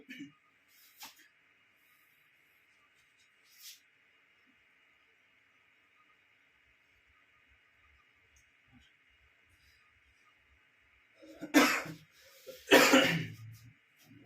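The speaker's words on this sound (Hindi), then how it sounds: "खांसी हो रहा है।" Two loud, harsh coughs in quick succession near the end, after a long stretch of near silence with a few faint, scattered sounds.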